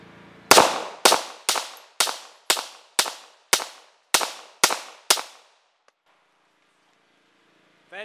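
A Smith & Wesson 5906 9mm pistol fires ten sharp, loud shots of .38 SWC bullets at a steady, even pace outdoors, each crack ringing briefly before the next, followed by quiet and a faint metallic click.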